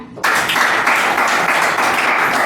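Audience applause breaks out at a Teacher's Day stage program, welcoming performers; dense, loud, steady clapping starts abruptly and fills the hall without pause.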